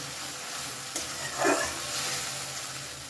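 Mustard paste is poured into parshe fish frying in a pan over a low flame, giving a steady close sizzle with a brief louder burst of hissing as the paste hits the hot oil.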